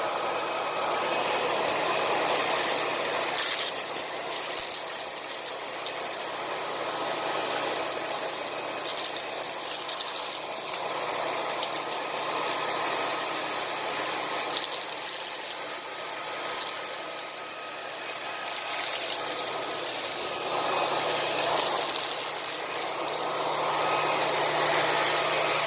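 Puppyoo A9 cordless vacuum cleaner runs on its higher power setting, a steady airy motor whir with a rattly, slightly fluctuating roar that continues unbroken at moderate loudness.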